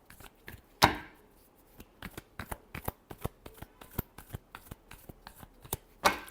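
A deck of cards is shuffled by hand: a sharp riffle burst near the start, then a run of crisp evenly spaced snaps and taps, and another riffle at the end, close and clear.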